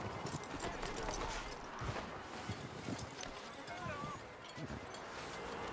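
Hooves of a horse in the video game Red Dead Redemption 2 clop irregularly at close range while someone speaks over them, with a faint whinny partway through.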